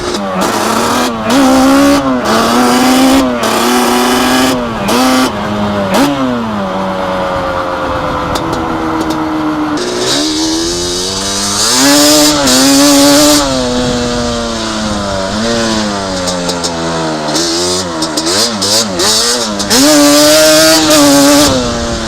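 A loud Yamaha Banshee ATV engine, fitted with an air box mod, revs and bogs repeatedly, pitch rising and falling as the throttle opens and closes, with a raspy two-stroke buzz throughout.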